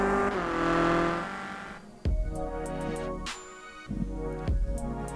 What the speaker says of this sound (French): Et le dernier freinage pour Greg Corbin qui va aller imposer sa Clio dans cette épreuve